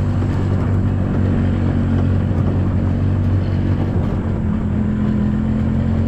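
A car engine rumbles steadily while driving around a blueberry farm on a hot, humid day, a low continuous drone close by with no pauses.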